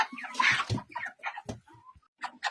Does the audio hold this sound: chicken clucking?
yes